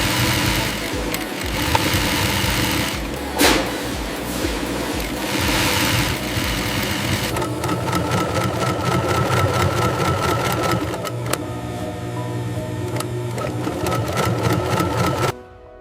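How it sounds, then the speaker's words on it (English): Industrial sewing machines stitch fine pillow casings in a luxury pillow factory, a fast mechanical whirring and clatter that runs continuously, shifting to a lighter rapid ticking rhythm partway through, with steady workshop hum beneath. "Expert seamstresses use industrial machines to stitch the fine casing materials, creating the empty shells for the pillows."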